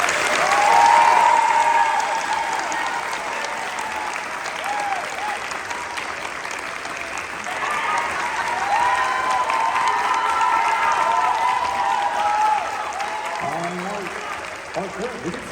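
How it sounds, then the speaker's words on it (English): Sustained audience applause and cheering for Dr. Bookout at a spring school concert at Glendale Prep, a broad steady clapping roar lasting many seconds, with a voice speaking over it near the end. "let's give him one more round of applause"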